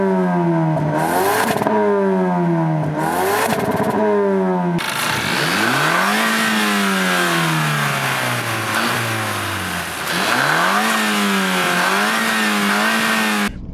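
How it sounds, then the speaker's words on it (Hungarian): A 2019 Ford Focus ST in sport mode, with its exhaust valves open, revs hard several times. Each loud, close engine rise and fall is followed by a longer, sustained pull. "sokkal hangosabb lesz ilyenkor az autó, kinyílnak a szelepek, a kipufogónak a hörgése, felhallatszik"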